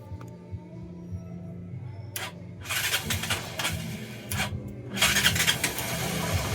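A Rouser NS 160 motorcycle engine is started close by. A brief crank is followed by the engine catching and running with loud, rough surges that rise and fall, with no talk over it.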